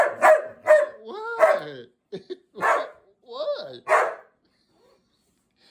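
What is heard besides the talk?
dog barking at a Shark Navigator vacuum cleaner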